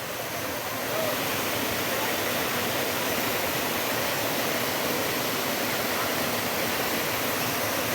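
Rushing water of Bissa waterfall, a steady, loud broadband roar that fills the whole stretch without a break, close and constant.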